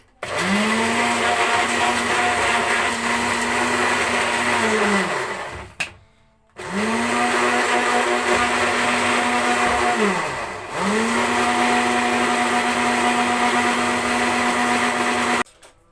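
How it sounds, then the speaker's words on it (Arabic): A blender whirs loudly in three bursts while blending chard, cutting out briefly between runs with a short pause, close by and with no one speaking. "وهضربهم بقى كده في الخلاط زي ما انتم شايفين"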